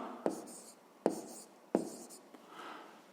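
Chalk or pen strokes for a fifth-grade math exercise come in three sharp taps with short scratchy drags, spaced evenly, then a softer final stroke, close and quiet.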